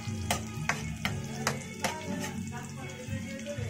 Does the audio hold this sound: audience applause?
no